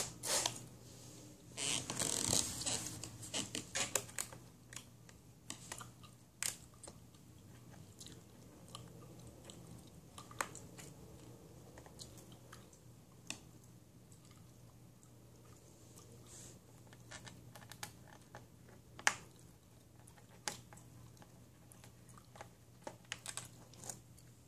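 Gum is chewed vigorously and loudly up close, with irregular wet crunching and smacking sounds that keep going over a quiet background hum.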